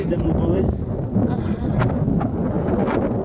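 Gusty wind buffets the microphone in low rumbling bursts while people talk close by.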